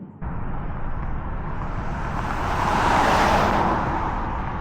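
Synthetic driving sound from a Mini Countryman SE ALL4 electric car in Timeless mode: a steady, whooshing engine-like tone that starts abruptly and swells slightly midway as the car moves off, heard alone.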